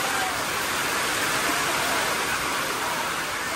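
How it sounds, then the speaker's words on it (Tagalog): Steady rain falling outdoors, a dense, even hiss that holds constant and fairly loud from start to finish with no breaks. "Umuulan."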